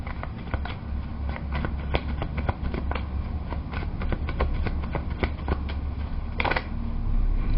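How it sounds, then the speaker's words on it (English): Tarot cards are shuffled by hand in a close, steady run of soft riffling flicks and taps, repeated card after card with no voices. "Gonna give it a few more shuffles and then I'm just gonna pull if nothing comes out."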